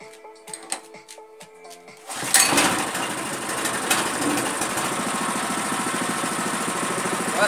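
A Toyama TE70 motor water pump's small engine starts after a couple of seconds of quiet handling noises and then runs steadily and loudly at close range, a constant buzzing drone with no talk over it.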